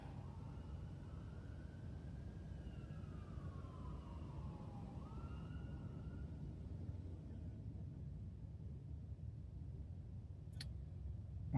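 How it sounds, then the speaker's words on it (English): Emergency vehicle sirens wail faintly in the distance along a highway at night, a thin rising and falling tone over steady traffic and ambient hum before fading out. "Sirens sound like they're back here on 75."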